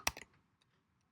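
Quick typing on a computer keyboard: a short burst of a few close, sharp key clicks, followed by a couple of fainter taps in a quiet room.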